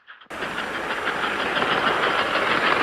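American Flyer model train running toward the main yard, a steady close hiss and rumble that starts abruptly and holds continuous, loud and alone without talk.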